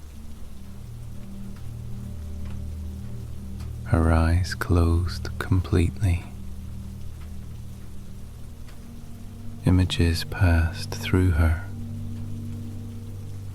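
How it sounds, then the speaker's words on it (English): Steady rain falls as a soft, continuous hiss throughout, with a gentle voice narrating quietly over it in two short passages. "The sea and the rain sang in harmony, each sound finding its place within the other."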